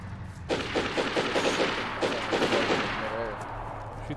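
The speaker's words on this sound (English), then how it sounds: "Oh, you're shooting." Gunfire in the video game DayZ crackles in rapid bursts, automatic shots rattling steadily for several seconds, loud and close, with a voice briefly speaking over it.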